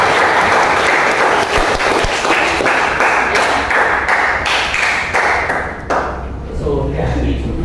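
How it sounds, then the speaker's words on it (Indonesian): A classroom of students claps together after a learning-style test in a school counselling session, a dense, steady burst of many hands that fills the room, with a few voices mixed in as it begins to thin out near the end. "Beri tepuk tangan buat kita semuanya."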